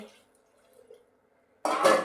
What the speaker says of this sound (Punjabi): ਥੋੜਾ ਜਿਹਾ ਵਿੱਚ ਪਾਣੀ ਪਾ ਕੇ